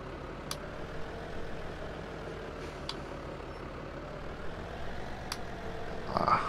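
A tractor engine in the video game Farming Simulator 17 drones steadily at a moderate level throughout, with a few faint clicks over the constant rumble and a slight rise at the very end.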